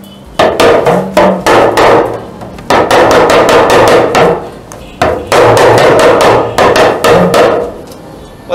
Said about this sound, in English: You speak a lot in Yoruba on that drum, so I wish to hear more.